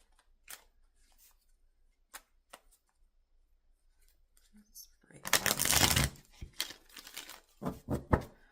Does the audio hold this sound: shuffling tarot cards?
yes